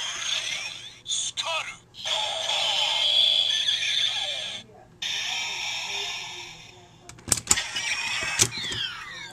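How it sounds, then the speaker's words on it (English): Kamen Rider W Skull Magnum toy sounding its Skull Joker henshin, a bright electronic toy jingle and voice effects playing in bursts close up with brief gaps. "So the henshin sound is instantaneous with the skull magnum."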